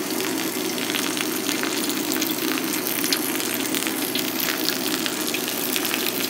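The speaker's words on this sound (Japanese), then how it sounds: "沸騰したやかんからお湯をジャッと入れて" Boiling water poured from a kettle in a steady, continuous rushing gush with a sizzling hiss, close and fairly loud throughout, with no talking.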